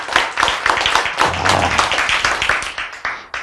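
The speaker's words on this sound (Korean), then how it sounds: "박수" An audience at a lecture clapping, a burst of sharp irregular claps from a small group, close and fairly loud, thinning out toward the end.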